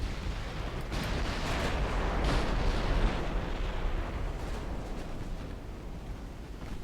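Naval battle in Ultimate Admiral Dreadnoughts, British 1900 campaign: a dense, continuous roar of ship gunfire and explosions rumbling loudly throughout, swelling in the middle and easing slightly at the end.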